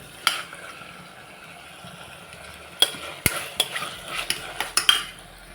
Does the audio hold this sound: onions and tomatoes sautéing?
yes